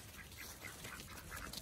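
A free-range pet duck gives a few faint, rapid quacks against a soft outdoor background, with no voices.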